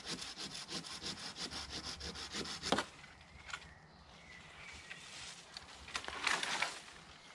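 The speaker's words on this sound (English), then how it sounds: "I'm going to cut this one off because it's almost wrist thickness" A hand saw cuts through a wrist-thick willow branch in rapid, even back-and-forth strokes, heard close but faint, then pauses before a few more rasping strokes.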